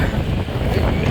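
Strong storm wind roars and buffets a microphone on the Black Sea coast at Arkhipo-Osipovka in late November, a loud, continuous blustery rumble with no break.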